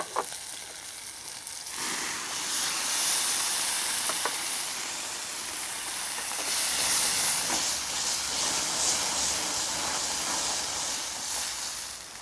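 Base gravy for a restaurant-style madras curry sizzling and cooking down in an oiled pan, a loud hissing, steaming sizzle that rises sharply after the liquid goes in and stays steady, with occasional stirring clicks and no talking.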